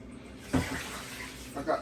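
A kitchen tap runs steadily as water is drawn for making dumplings, a continuous moderate splash with a couple of louder surges and bits of handling noise.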